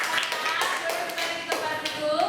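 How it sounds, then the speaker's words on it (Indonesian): Classroom applause for a student group: a short burst of clapping and tapping from several students, moderately close, with voices mixed in. "Teman-teman kita beri tepuk tangan untuk kelompoknya Baim"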